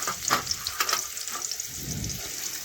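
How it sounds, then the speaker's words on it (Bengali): Finely sliced onion frying in oil with cumin and bay leaf, a steady close sizzle with scraping stirs and clinks from a spatula in the pan. "এখন এই পেঁয়াজটা আমি একটু কিছুক্ষণ ধরে লাল লাল করে ভেজে নেব।"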